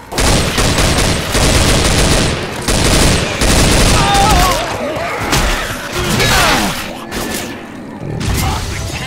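Rapid gunfire in the zombie shooter Left 4 Dead, loud dense bursts of automatic shots with clattering mechanisms and impacts, nearly continuous, with brief shouted voices in between.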